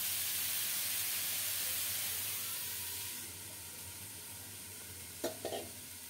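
Mixed vegetables for a vegetable dal fry in a pan with a steady soft sizzle and hiss that eases partway through, broken near the end by a few sharp clinks of utensils, with no voices.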